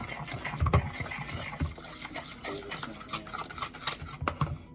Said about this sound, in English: I'm gonna add that and stir it in.